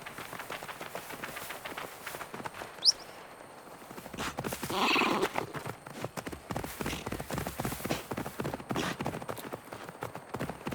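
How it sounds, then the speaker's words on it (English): Horse hooves clip-clop at a steady gallop through a village in Assassin's Creed Valhalla, with a short sharp whinny early on and a busy rushing stretch midway, moderately loud throughout. "Now to deliver Magni his horse"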